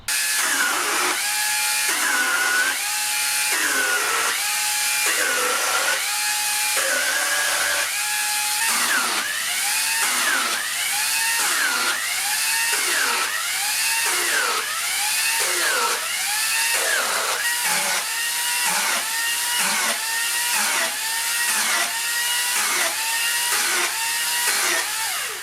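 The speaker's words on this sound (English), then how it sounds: "I'm going to cut that, we'll whack through that a few times, see how they feel, see how quick they cut," A Makita split-shaft pole saw attachment cuts through a pine branch, its chain buzzing loudly and steadily while the motor pitch dips and recovers in repeated rhythmic strokes through the wood.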